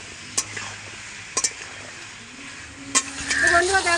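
Vegetables being fried and stirred in a pan for a Bengali pui shak chorchori with katla fish and fish oil: a low sizzle with several sharp scrapes and clinks of the spatula against the pan, busier near the end.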